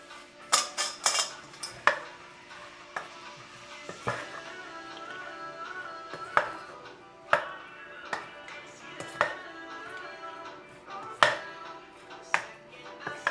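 Rigatoni pesto pasta is tossed with Parmesan in a pan, with a utensil knocking and scraping against the metal in irregular clanks, some louder than others, over quiet background.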